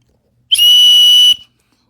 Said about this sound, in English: whistle, as you hear this.